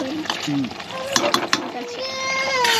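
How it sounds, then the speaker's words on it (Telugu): Eggs sizzle in hot oil for an egg masala curry, a steady frying hiss broken by a few sharp clatters and some brief tonal squeaks near the pan. "గుడ్లు అయితే ఇలా ఫ్రై చేసేసుకుందాం"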